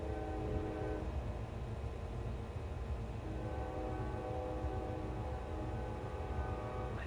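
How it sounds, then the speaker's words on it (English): A train passes in the Space Engineers video game, a steady loud rumble with a sustained horn tone layered on top, continuing through the whole stretch with no talk. "There's another train."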